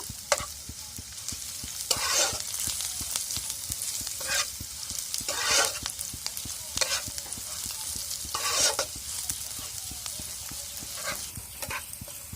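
Onions frying hard with ground black pepper in a pan, a continuous close sizzle broken by repeated spatula scrapes and stirring strokes every second or two.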